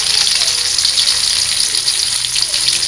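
Tilapia fish frying in hot oil in a home kitchen, a loud, continuous, close crackling sizzle with a steady hiss and no talking.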